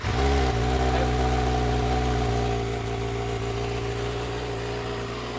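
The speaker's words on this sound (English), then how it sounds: "Let's hear that M4 exhaust you got on." A 2025 Kawasaki ZX-6R with an aftermarket full exhaust and headers idles with a deep, steady exhaust rumble after a brief rev at the start, loud and close, settling into an even drone.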